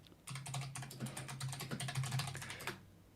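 Rapid typing on a computer keyboard, a steady run of close, crisp key clicks lasting a few seconds before stopping abruptly, with a low hum underneath.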